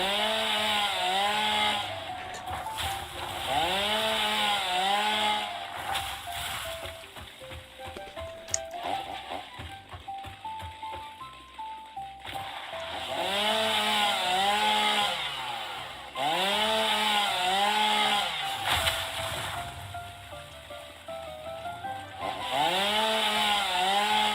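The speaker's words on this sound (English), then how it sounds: "Luckily, I have my chainsaw." A chainsaw in the video game Satisfactory revs and cuts in repeated loud bursts, droning steadily with short pauses between cuts and no talking over it.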